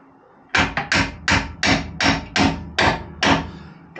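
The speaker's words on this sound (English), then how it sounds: "Now we're going to tap it with a fucking hammer." A hammer taps metal on a Jeep TJ track bar and shock tower job, nine sharp strikes in a steady rhythm, close and loud with brief ringing after each hit.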